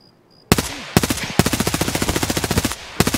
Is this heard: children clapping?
no